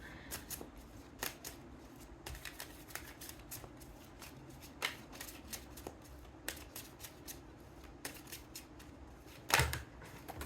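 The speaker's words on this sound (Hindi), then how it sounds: "एक लास्ट सफलिंग कर लेती हूँ लास्ट" Tarot cards being shuffled by hand, a run of soft, quick riffling flicks and taps close by, with a sharper snap near the end and no talking.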